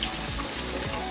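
Warm tap water runs steadily from a faucet for washing a Miltassia orchid indoors in winter, a brief continuous splashing rush heard close up with no voices.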